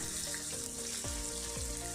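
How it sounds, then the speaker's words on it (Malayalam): Karimeen fish shallow-fries in oil with a constant close crackling sizzle, joined by a couple of low bubbling or shifting sounds as the fish settles in the pan, with no talking. "ഞാൻ ഇത് ഷാലോ ഫ്രൈ ആണ് ചെയ്യുന്നത്."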